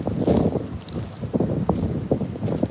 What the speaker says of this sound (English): It's fucking horrible, this wind.